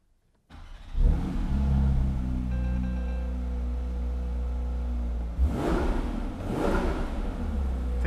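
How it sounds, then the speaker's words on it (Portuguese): A Porsche 911 GT3 RS engine cranks and catches, then settles into a loud, steady idle punctuated by two sharp revs near the end, heard close and alone with no talk. "vamos ligar esse motor?"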